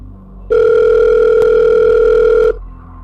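A single loud, close telephone ring in a horror setting sounds as a steady electronic tone lasting about two seconds and then stops sharply, with no talking over it.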